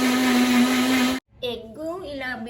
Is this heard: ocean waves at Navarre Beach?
no